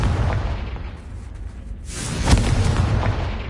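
A fire-blast spell in Hogwarts Legacy bursts with a deep, rumbling boom and a whooshing rush of flame, swelling again into a louder blast midway through before the rumble trails off.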